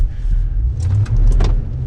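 A 2022 truck fitted with a Banks Pedal Monster throttle controller set to track mode accelerates with a loud, deep engine rumble. A brief dip in the middle gives way to a continued strong low roar.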